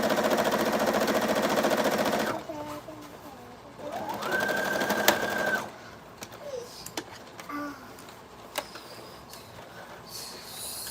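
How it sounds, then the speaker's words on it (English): A sewing machine runs in a steady, fast whir for a couple of seconds, then stops, followed by quieter handling clicks and a brief second burst of stitching. "use your measuring guide on your sewing machine"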